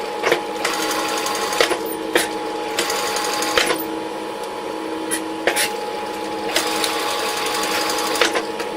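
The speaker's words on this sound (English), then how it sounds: "So we'll give this a stitch, feeding the hair through as you go." A sewing machine runs in steady bursts while stitching hair into a small puppet's wig, close and clear, with brief pauses and clicks between runs.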